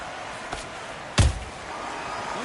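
Counter punches land in the Undisputed boxing video game: a faint thud near half a second, then one sharp, heavy impact with a brief low boom, both over steady crowd ambience.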